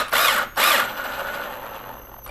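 A cordless power driver tightens Phillips-head screws into an electrical box, whirring in two short bursts, then a longer trailing whine as it spins down, close up and fairly loud.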